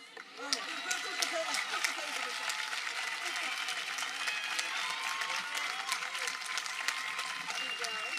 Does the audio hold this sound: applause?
yes